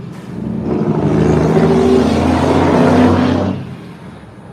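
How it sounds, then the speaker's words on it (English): Truck passing on a road near a new highway under construction at dusk, a loud broad rumble that swells and holds for a few seconds, then fades away, with no talk. "hear that truck?"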